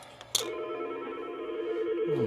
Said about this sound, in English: if the phone quit ringing